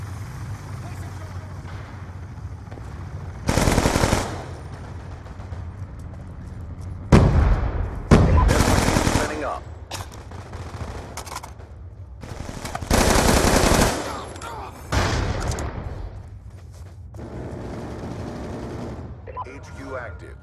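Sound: gunfire in the video game Black Ops 2

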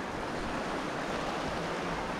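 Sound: flowing water of Dodd Creek

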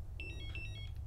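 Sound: electronic fishing bite alarm sounding

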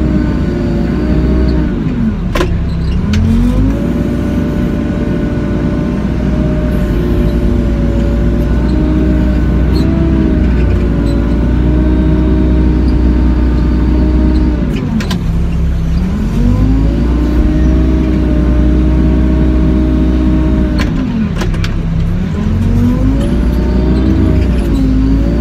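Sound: Doosan DX55 excavator engine running while digging soil

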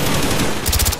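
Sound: machine gun fire in Call of Duty Black Ops video game

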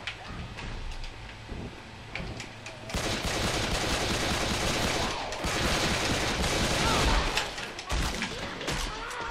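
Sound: gunfire shooting zombies in video game Left 4 Dead 2

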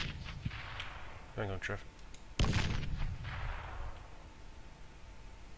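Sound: grenade explosion in video game Arma 3

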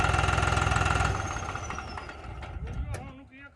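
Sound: Mustang tractor engine running

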